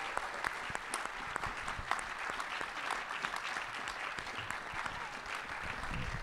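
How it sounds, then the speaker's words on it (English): An audience in a theater applauds to welcome actress Karen Allen onstage, a continuous, even wash of clapping that stays moderately loud from start to finish. "Let's give her a big round of applause."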